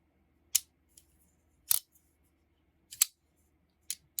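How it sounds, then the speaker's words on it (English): A brand-new Demko MG20 (MG AD20) folding knife is flicked open by hand, giving four sharp, bright metallic snaps about a second apart with faint ticks between them, close up and with no voices. "this was literally assembled yesterday, so I'm getting its very first flicks"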